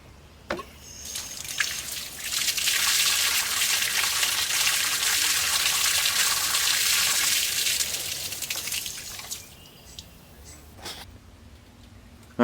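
Water gushing through an open valve seat on a Woodford Model 14 faucet as the line is flushed, a steady loud hiss rising after a brief knock and tapering off near the end.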